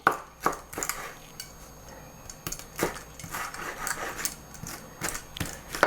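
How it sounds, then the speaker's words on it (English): A knife chops ingredients for lobster crab cakes on a cutting board, giving irregular sharp taps and clacks, some in quick bursts, close by with no talk. "Everybody has their different ways of chopping. This is my way."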